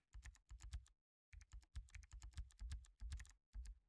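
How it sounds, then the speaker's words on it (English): Rapid computer keyboard typing clatters in dense bursts with a short pause, close to the microphone and fairly loud, with no speech over it. "Typing around the microphones."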